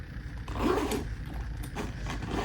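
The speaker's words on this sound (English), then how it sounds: "You'll see here we have almost like these 3D like zippers." A zipper on a fabric crossbody bag with several zippered pockets rasps open in a short, close scraping pull, with no voices.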